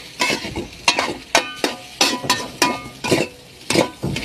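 Egg fried rice being stir-fried in a pan, with repeated sharp scrapes and clanks of the utensil against metal over a soft sizzle, close up and roughly rhythmic, with no speech.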